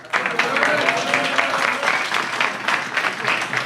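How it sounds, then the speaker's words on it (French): A crowd applauds at a French rap battle, dense continuous clapping that swells quickly and holds evenly throughout, with faint voices mixed in. "Applaudissez, s'il vous plaît."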